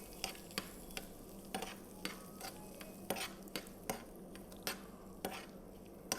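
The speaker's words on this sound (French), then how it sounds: "On va mettre ces escargots dans du beurre fondu. On va faire attention à bien les enrober" Snails being stirred in melted butter in a restaurant kitchen pan, with steady soft sizzling and repeated light scraping taps of a utensil against the pan at a roughly regular pace, close and alone.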